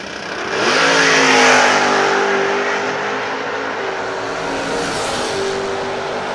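Drag race cars including a Nova roar down the strip, a loud surging engine note that swells quickly then holds and fades slightly as they pull away, with no talking.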